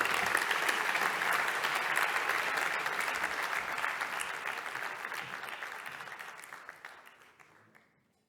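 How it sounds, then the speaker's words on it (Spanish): Sustained applause from a large crowd, dense and steady, slowly tapering off toward the end. "Por eso les pido un fortísimo aplauso"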